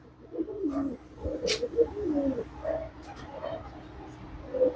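Andhra pigeons coo in a short series of soft, low, rolling calls close by, with brief gaps between them.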